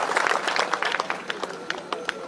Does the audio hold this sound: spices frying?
no